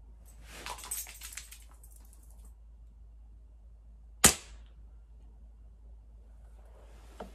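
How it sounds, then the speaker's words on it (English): A single sharp crack from an Umarex Fusion 2 air rifle fired at a target 5 yards away, loud and close, after a few faint rustles and before a quiet tail. "we're going to take this 5-yard shot on the target"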